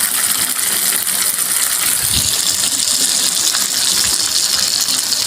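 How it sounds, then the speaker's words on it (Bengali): Water poured into a pan of fried ginger, cumin and tomato for potol curry makes a steady, even gush of splashing and hissing that runs unbroken throughout, with a faint clink near the middle. "এবার আমি অল্প জল দেব।"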